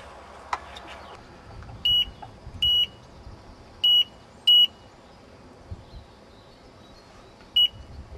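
Fishing bite alarms on a carp rod setup at a lake in Aveyron, France give five short, sharp electronic beeps at uneven intervals, clear above a quiet outdoor background.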